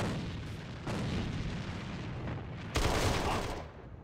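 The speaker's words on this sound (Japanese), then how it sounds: "さあ、もう一回グレネード入れときましょうか。" A grenade explodes in the shooter game AVA, a series of heavy, rumbling booms and crackling blasts that swell suddenly and then fade away.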